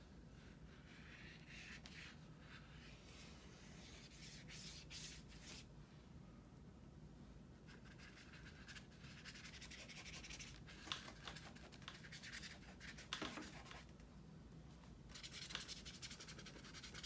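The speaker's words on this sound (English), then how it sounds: "I'm pushing pretty hard with this brush when I do that, when you hear that scrubbing sound." A brush scrubs hard across a painting, a faint, close, continuous scratchy rubbing with irregular bursts of stronger strokes and no voices.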